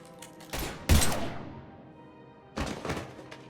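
Gunfire in the video game Mass Effect 3: a few heavy, thudding shots ring out in two bursts, the second after a pause, loud and close with a short decaying tail.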